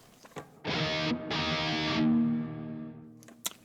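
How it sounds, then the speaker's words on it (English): Distorted electric guitar chords through an amp-suite reverb effect ring out with a washy reverb tail, a brief gap mid-phrase, then fading into faint plucks. "let's first check out the reverb on its own"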